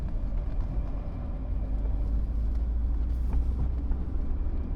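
Chevrolet C6 Corvette with a manual gearbox, its engine droning steadily at low revs as they fall after a shift, a deep continuous rumble that stays near and even throughout with no voices.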